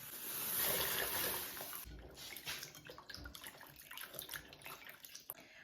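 Thawed beans being rinsed under a running kitchen tap, a steady close splash and rush of water that shifts and sputters as the beans are moved about.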